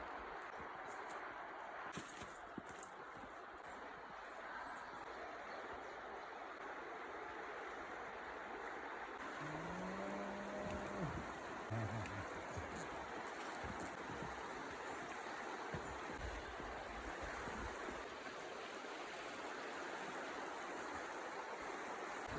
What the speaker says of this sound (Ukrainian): Ви хотіли до річки, то маєте річку.